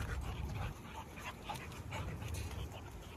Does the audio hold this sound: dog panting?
yes